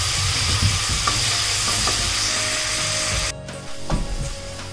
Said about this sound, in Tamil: ஸோ வெங்காயம் நல்லா வதக்குறோம்